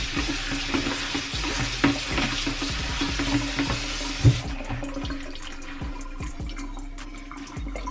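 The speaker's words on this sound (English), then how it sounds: "And I'm gonna just rinse it off again." Strained sea moss rinsed under running tap water, a steady splashing rush with clattering and stirring noises, loud and close, easing off somewhat in the second half.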